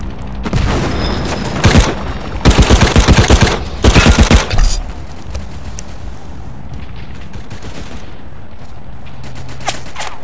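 Bursts of automatic gunfire from a World War Heroes video game match, with a short burst near two seconds followed by two longer rapid volleys, then quieter game ambience.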